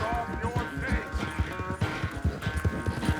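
Horse hooves in Red Dead Redemption 2 make a steady clip-clop of thudding hoofbeats in an even rhythm, moderately close, under a music bed and occasional talking voices.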